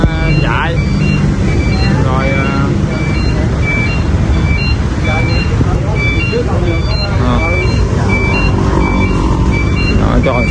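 A truck idles loudly nearby while its reversing alarm beeps in a steady repeating rhythm throughout, with people talking over it.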